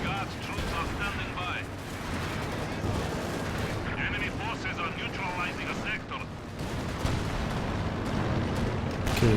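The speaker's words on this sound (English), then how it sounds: "we've got some smoke coming in from this mortar" Constant battlefield gunfire, machine-gun bursts and mortar blasts fill a Company of Heroes 2 match between US and Soviet forces, a dense, unbroken din running loud throughout with a commentator talking over it.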